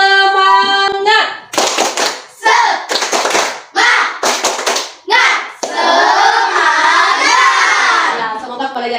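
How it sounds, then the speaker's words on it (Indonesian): A class of children stands and performs a rhythmic clapping chant in a classroom, bursts of loud unison claps in quick patterned groups, followed by sustained chanted voices. "kita tepuk semangat. Silakan berdiri. Tepuk semangat."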